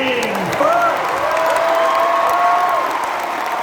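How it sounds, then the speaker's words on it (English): An audience at a comic con show applauds in a steady wash of clapping. A voice sings or calls out over the applause. "Big round of applause!"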